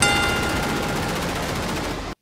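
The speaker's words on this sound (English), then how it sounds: "we have a random series of pyrotechnics exploding, for whatever reason" Pyrotechnics burst in a rapid, continuous crackling volley at a WWE WrestleMania 37 wrestling event, loud and dense for about two seconds before cutting off abruptly.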